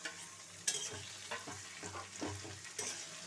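Tomatoes fry with onions in oil over a quiet sizzle, punctuated by a few sharp clinks of a spoon against the pan while stirring.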